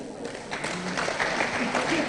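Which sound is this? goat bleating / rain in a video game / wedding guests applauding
wedding guests applauding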